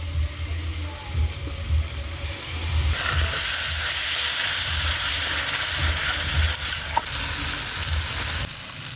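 Spices frying and sizzling in a pan while being stirred for a fish curry made from a large 11 kg fish, a steady close hiss with repeated scraping stir strokes throughout, no talking.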